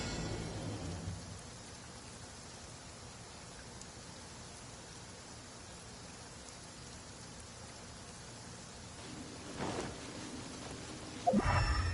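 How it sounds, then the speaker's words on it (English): Rain falls in the video game Genshin Impact, a soft, even hiss of drops that runs steadily, with a brief louder thump near the end. "It's raining."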